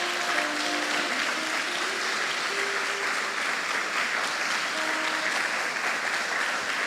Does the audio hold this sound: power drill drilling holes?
no